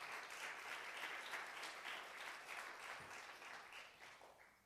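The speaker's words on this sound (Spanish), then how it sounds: "Le da un aplauso al Rey" A church congregation applauds in a sustained, dense burst, many hands clapping together, loud at first and slowly thinning toward the end.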